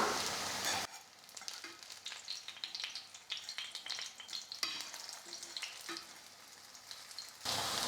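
Potato and maida snack pieces fry in hot oil, a soft, continuous crackling sizzle with occasional light clinks of a utensil, quiet and close with no talking.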